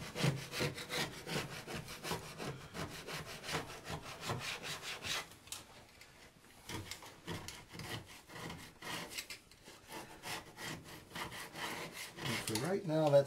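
A chisel scraping caulk off a Formica countertop during an undermount sink install, steady rapid rasping strokes repeating close by and fairly loud, easing for a moment midway before the scraping resumes.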